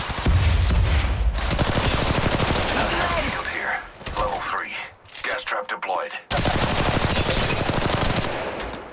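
Sustained automatic gunfire in Apex Legends Mobile, loud and close, with rapid repeated shots in long bursts, a short break midway with voices, then more fire.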